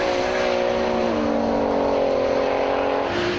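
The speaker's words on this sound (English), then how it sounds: "On the strip, the two cars are very evenly matched, though equally slow off the line, lighting up the tyres around 70 k's an hour." A Nissan Skyline drag racing on the strip against an evenly matched car, slow off the line and spinning its tyres near 70 km/h; a loud, sustained engine roar with a steady droning note that shifts slightly, alone and close.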